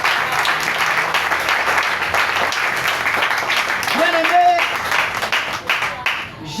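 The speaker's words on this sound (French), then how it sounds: "Acclame très fort la parole de Dieu." A church congregation applauds loudly during a French-language service, sustained clapping that swells and then thins, with a voice speaking over it.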